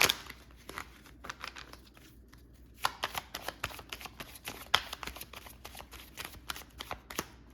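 Tarot cards riffle and slap together in quick, uneven bursts of close, crisp shuffling, with brief pauses between passes.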